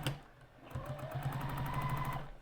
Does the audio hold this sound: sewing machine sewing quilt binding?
yes